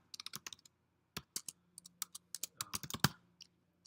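Quick bursts of keystrokes on a computer keyboard while code is typed, irregular clusters of close, crisp clicks with short pauses between them, no voices.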